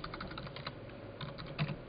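Computer keyboard keys clack in short quick bursts as a DOS command is typed, close and fairly soft, with brief pauses between clusters of keystrokes and no talking.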